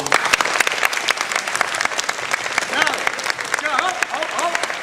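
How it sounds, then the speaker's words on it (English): Campers at a Fairfield basketball camp applaud themselves, with steady, loud clapping throughout and a few raised voices cheering over it. "you need to give yourself a round of applause"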